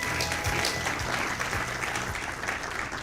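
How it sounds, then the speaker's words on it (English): Conference attendees at an East African guild leaders' summit applaud Honorable Matthew Chikere, a sustained, fairly distant burst of many hands clapping at even strength, without speech. "Another applause for Honorable Matthew Chikere."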